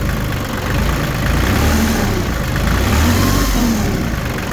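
Diesel engine running on gelled fuel, loud and close with a heavy low rumble that rises into a sustained high-revving drone, with no one speaking.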